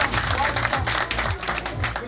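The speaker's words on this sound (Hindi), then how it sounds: "सबके लिए जोरदार तालियां," Applause rises from an audience at a BJP party workers' event in Jammu East, loud and steady throughout, with a speaking voice and low rumble carrying underneath.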